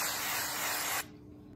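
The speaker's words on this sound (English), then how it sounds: "I'm just gonna be using canned no stick spray because I can't be bothered to get my actual canola oil out of the pantry." Canned non-stick cooking spray hisses into a bowl in one close, continuous burst lasting about a second, then cuts off to quiet room tone.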